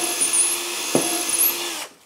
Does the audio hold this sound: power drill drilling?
yes